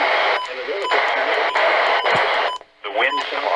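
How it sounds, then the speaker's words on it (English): A NOAA weather radio warning alarm tone sounds as a loud, steady electronic tone, broken by brief gaps and a short dropout near the end, with faint voice-like fragments mixed in. "the warning alarm will be activated for watches and warnings"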